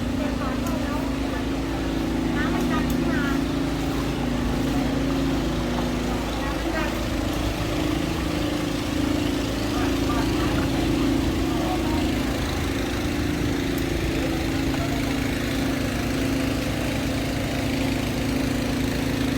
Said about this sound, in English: I can hear some kind of a pump over there.